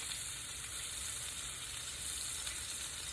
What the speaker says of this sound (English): just let your fish cook on each side